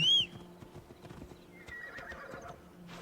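Horse hooves clopping at a brisk gait in Assassin's Creed Odyssey, a steady rhythmic beat after a short whinny at the start, fairly quiet with no talk.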